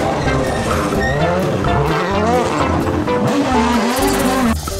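A toy Lamborghini race car gives off loud, continuous electronic engine and tire-squeal effects, with rising and falling whining tones that run without a break.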